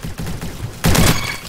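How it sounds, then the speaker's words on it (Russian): Burst of rapid gunfire in the Roblox shooter Bad Business, a loud close volley of several shots following quieter scattered firing, with no talking. "Я кого-то случайно вообще убил, рандомно стрельнул."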